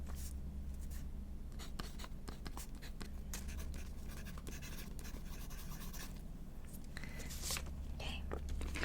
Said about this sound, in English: I am just getting the envelope ready to send your visa back to you